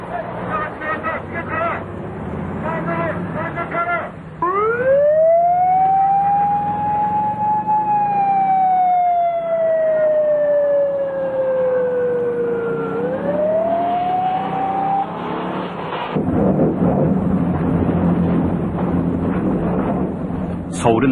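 A police motorcycle unit's wailing siren during a pursuit in Seoul, rising and falling in long sweeps over engine and traffic noise, loud and near.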